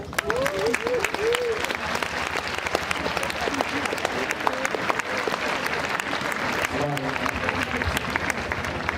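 Steady, dense audience applause at a talk fills the whole stretch, with a voice speaking over the clapping.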